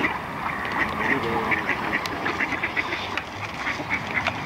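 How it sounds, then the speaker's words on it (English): Ducks being fed outdoors quack repeatedly in a steady, nearby chorus of short calls over wind and background noise. "We're out in the wild feeding the starving ducks."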